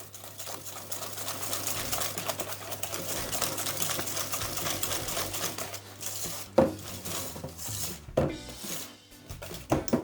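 Softened butter being stirred into a walnut cake batter, a steady busy scraping and clinking of utensil against bowl running throughout, with a few sharper knocks near the end.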